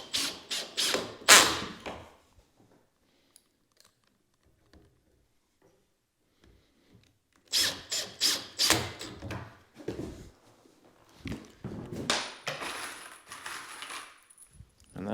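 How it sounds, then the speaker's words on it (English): Screws run in while trimming out a door and window with about an eighth-inch reveal in a country house flip; two close bursts of busy clicking and whirring, separated by a quiet gap, then scattered knocks and thuds. "And just carefully run these screws down."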